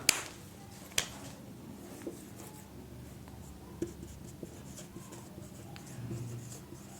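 Chalk or marker writing on a board during a Class 10 chemistry lesson on chemical reactions and equations, heard as a few sharp taps and scratchy strokes spaced across a quiet room, fairly close, with no talking.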